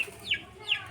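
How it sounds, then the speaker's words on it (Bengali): A hen eating alongside pigeons gives two short clucking calls, close by, over faint background noise. "সাথে মুরগি এসে খাবার খাচ্ছে দেখবেন"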